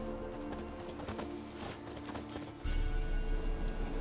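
Hoofbeats of the horse Roach trotting in The Witcher game, a steady clip-clop rhythm at moderate distance under ambient game sound, growing louder near the end.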